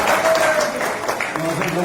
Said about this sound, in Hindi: तालियां बजे भाई और जोर से